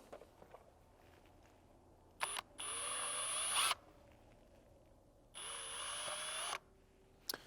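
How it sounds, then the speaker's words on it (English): Two bursts of a high whining power drill boring through a panel with a 3/16 bit, each running about a second, separated by a pause, with faint clicks before and after. "Then you just take a 3/16 drill bit and drill through."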